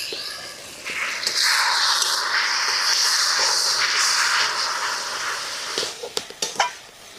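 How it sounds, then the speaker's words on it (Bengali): Ground spices for masoor dal sizzle in hot oil with a little water in a pan and are stirred steadily, a continuous bright frying hiss broken by a few scraping stirs near the end, with no talking. "মশলা ভালো করে কষায় নিয়েছি"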